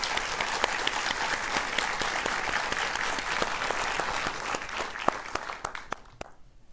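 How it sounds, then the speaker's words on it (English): Studio audience applause at a live gardening show: a dense, steady burst of clapping from a small crowd that thins to a few scattered claps at the end. "Let's give them a round of applause."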